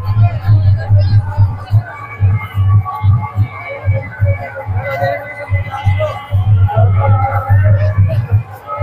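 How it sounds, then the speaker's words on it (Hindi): A dense crowd mills about at the Sunderdas fair in Bamarda Khandela, its steady babble and bustle forming a continuous hum at close range, with a low throbbing drone running underneath throughout. "बहुत भीड़, देखो आप"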